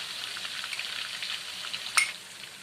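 Onion, chilli and ginger pastes fry in hot oil with a moderate, continuous sizzle and crackle, capped by one brief louder spit near the end.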